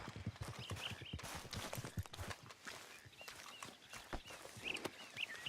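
Horse hooves clip-clop steadily at a walking pace in Red Dead Redemption 2, with soft ambient background noise and occasional faint bird calls.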